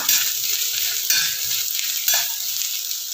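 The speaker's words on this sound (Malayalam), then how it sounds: "ഇഞ്ചി പച്ചമുളക് ചേർത്ത് നന്നായിട്ട് ഇളക്കുക ഇത് നന്നായിട്ട് ഇളക്കി കൊടുക്കുക" Ginger and green chili sauté in oil for a beef pickle, a bright steady sizzle up close, with spatula strokes surging roughly once a second.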